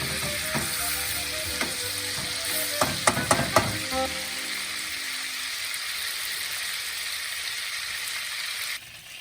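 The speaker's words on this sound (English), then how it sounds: "Now the butter has melted along with the garlic and the oil." Butter, garlic and oil sizzle steadily in a pan, a dense close crackle with a few sharp stirring clicks near the start, running evenly until it cuts off just before the end.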